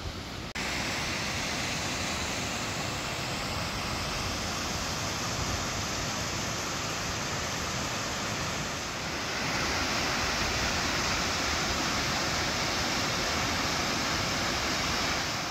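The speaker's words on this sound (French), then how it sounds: "on aperçoit déjà la cascade" Steady, dense roar of rushing water from a waterfall in Switzerland heard from nearby, continuous and fairly loud throughout with no voices.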